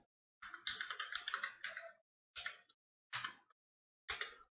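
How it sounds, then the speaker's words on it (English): Typing commands into a MicroPython prompt on a computer keyboard: a quick run of close, crisp key clicks followed by three short separate bursts of keystrokes, with silence between them. "And here I can type in command."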